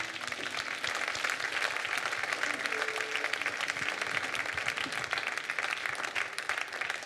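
A church congregation applauds God, a steady wash of many hands clapping at moderate distance, continuous throughout with faint voices mixed in.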